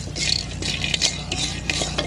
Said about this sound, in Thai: แล้วก็คั่วให้หอมค่ะ